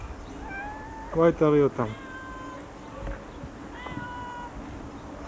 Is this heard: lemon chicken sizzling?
no